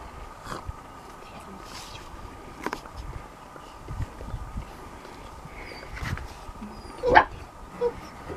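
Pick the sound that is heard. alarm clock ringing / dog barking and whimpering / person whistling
dog barking and whimpering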